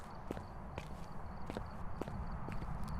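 Ghost footsteps during a hunt in the horror video game Phasmophobia: a series of regular, fairly loud thudding steps spaced roughly half a second apart over a dense, noisy background.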